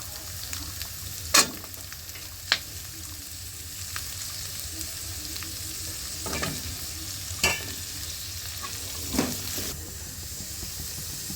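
Onion and carrot frying in a pan for white pasta, with a steady low sizzle under scattered sharp scrapes and clacks of a spoon stirring, no talking.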